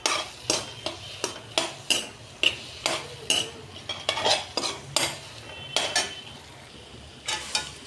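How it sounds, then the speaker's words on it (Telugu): A spatula chops and smashes a cooked egg omelette into small pieces in a pan for street-style egg noodles, making a steady run of sharp metallic taps about every half second over a faint sizzle. "ఇప్పుడు మనం ఏ షేప్లో అంటే ఆ షేప్లో కట్ చేసేసుకోవాలి, చిన్న చిన్న పీసెస్ లాగా ఇట్లా స్మాష్ చేసుకోవాలి."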